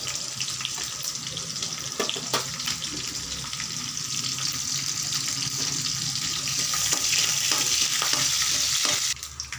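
Urad dal, mustard seeds, green chillies and coconut tempering in hot oil for a manathakkali keerai kootu, a steady close hiss with scattered clicks and scrapes of stirring, swelling slightly louder before easing off at the end.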